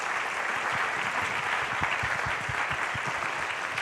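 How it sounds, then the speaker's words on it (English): A conference audience at a Bitcoin event in Indonesia claps steadily for a speaker, dense and sustained applause filling the room from start to finish. "Let's have a big round of applause for Obi Nuasu"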